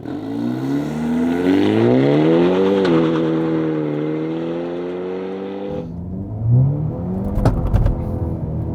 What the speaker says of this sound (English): Let's just stand on the throttle and see how we go. Here we go, and I'll go all the way through to 120 as well.